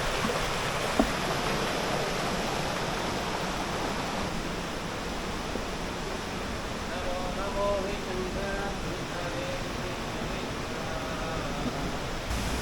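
A waterfall beside the Gowri Shankar Kona Shiva temple near Tirupati, a constant broad rush of falling water heard close and steady throughout the clip, with no voices over it.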